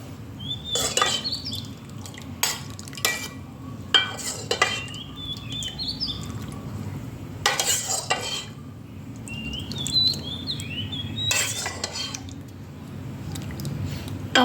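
Taro simmered in coconut milk being ladled into a bowl: repeated clinks of a spoon or ladle on the pot and dish, mixed with soft wet splashes and squishes at an irregular pace, close, with no talk.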